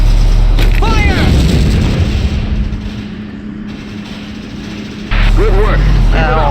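In the Valkyria Chronicles video game, a tank cannon fires with deep, loud booms at the start and again near the end after a quieter stretch, mixed with brief voice-like game sounds.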